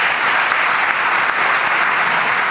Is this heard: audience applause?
yes